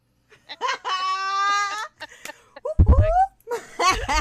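A voice imitates a rooster's crow with a loud, drawn-out, steady cry, framed by brief bursts of laughter and talk.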